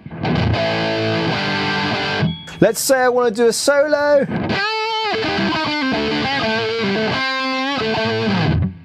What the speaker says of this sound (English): We can engage the mega distortion